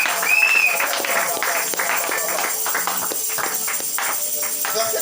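A church congregation claps in praise during a worship service, a dense, sustained wash of applause mixed with voices and cheering from a crowded room.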